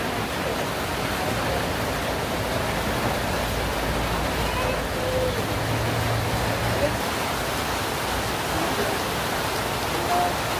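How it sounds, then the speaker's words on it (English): Heavy rain pours down steadily at an outdoor zoo, a dense unbroken hiss that stays loud throughout, with a faint voice now and then beneath it. "It's definitely pouring down."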